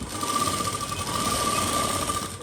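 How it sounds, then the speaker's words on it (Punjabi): A sewing machine runs a basting stitch on a palazzo pocket, a brief, continuous close mechanical hum with a steady whine throughout. "ਇੱਕ ਸਲਾਈ ਇੱਥੇ ਨਾਲ ਕੱਚੀ ਲਾ ਲੈਣੀ ਆਪਾਂ"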